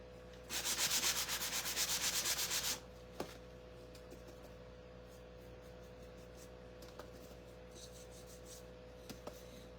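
Sandpaper rubs over a wooden wall decor piece in a quick rhythmic burst of about two seconds, followed by quiet room tone with a few small taps.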